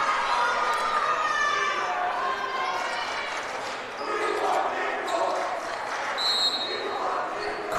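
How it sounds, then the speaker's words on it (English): Crowd at a men's college volleyball match between Averett and Roanoke, cheering and shouting in a gym, with sharp ball bounces and squeaks mixed into the steady roar of voices. "Crowd getting into it"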